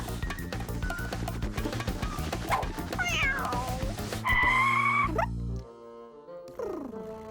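A cat yowls and meows several times with rising and falling cries amid a busy cartoon scene of music and chaotic crashing effects, the cries loud and close over the din.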